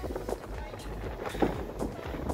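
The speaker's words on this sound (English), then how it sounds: "even the sign's flexing in the wind" Strong wind from a 50-knot coastal storm at Robe, a loud, low, rough roar buffeting the microphone throughout with gusty surges and no clear talking.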